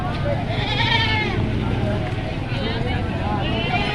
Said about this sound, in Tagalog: nandito tayo ngayon sa area ng kambingan. Marami yung nagdalang kambing ngayon